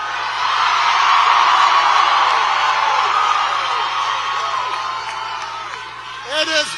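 Rally crowd at a Newark, New Jersey campaign event cheering and whooping loudly and steadily, a dense roar with scattered shouts throughout, fading slightly toward the end.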